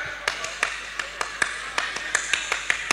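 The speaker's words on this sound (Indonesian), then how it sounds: "Tepuk pramuka." Rhythmic pattern of sharp hand claps and taps in a Pramuka scout clapping routine, a dozen quick strikes at uneven intervals, close and fairly crisp over light background noise.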